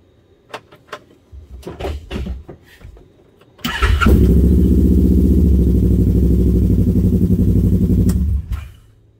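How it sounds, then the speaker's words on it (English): Electric fuel pump on a Kawasaki KRX 1000 side-by-side during a fuel rail install switches on after a few handling clicks and knocks, droning in a loud steady mechanical hum for about four seconds before cutting off. "You can hear the fuel pump."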